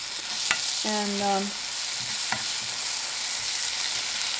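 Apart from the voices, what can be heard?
vegetables being sautéed and stirred in a pan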